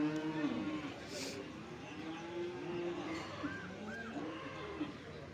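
Cattle and buffaloes, including medium-sized buffalo bulls, resting at a livestock market give low moos and lowing calls over a steady crowd murmur, fairly close and continuous throughout.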